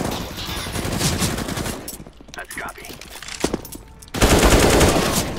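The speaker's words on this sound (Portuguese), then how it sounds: "Pava, tomou tiro de AK." Loud bursts of automatic AK rifle fire in a 1v1 video game match, rapid crackling volleys broken by a quieter gap, with players talking briefly during the lull.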